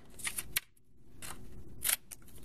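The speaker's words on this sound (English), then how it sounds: "Okay, now cut this one in half." Scissors snip a thin paper strip in half, giving a few sharp, close crisp cuts in quick bursts against a quiet room.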